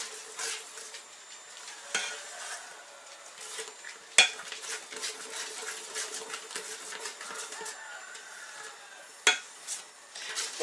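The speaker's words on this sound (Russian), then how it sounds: "Перемешиваем." A spoon scrapes and clinks around a pot as food is stirred, making soft, close, irregular strokes with a faint sizzle underneath and a few sharp knocks against the rim.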